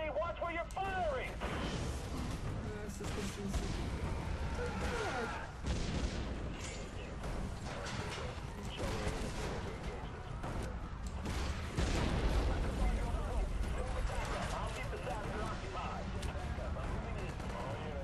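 Grenade launcher fire in the video game Prototype 2, with dense rapid blasts and booming explosions layered over a continuous battle din, while voices talk throughout.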